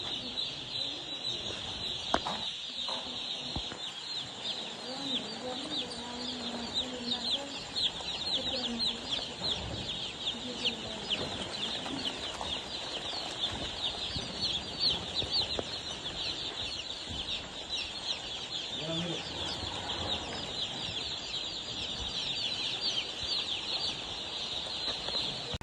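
Broiler chickens on a large poultry farm in Nepal give off a dense, continuous clucking chorus that fills the space steadily, with no voices over it.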